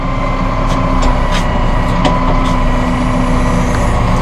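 A Massey Ferguson Global Series tractor engine runs steadily at close range, a loud continuous diesel drone with a hum underneath and a few brief clanks and hisses over it.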